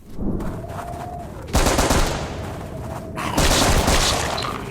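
Gunfire in a mobile FPS shooter game comes in loud close bursts, rapid shots separated by short gaps and a booming impact, with no talk.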